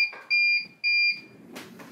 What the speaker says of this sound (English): when this device loses power, it can give you an audible alarm